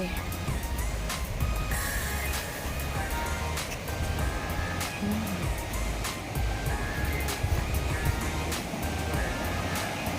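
Clear water flows steadily at a swimming spot at a resort in Nang Rong, a constant soft rushing wash with no break, heard from nearby.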